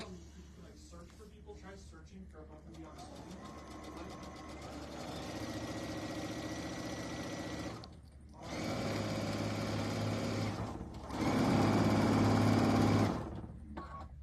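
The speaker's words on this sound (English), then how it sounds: "we are going to run the right edge of the foot right up against that drawn line, and we are going to stitch a seam" Domestic sewing machine stitching a seam along a drawn line on a sunflower panel quilt block, running in steady mechanical bursts that grow louder, with someone talking over parts of it.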